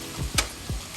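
Chopped vegetables fry in a pan for a Buffalo-style chicken cheese Philly, with a steady hissing sizzle throughout and a few soft scraping clicks from stirring, close by and with no talk.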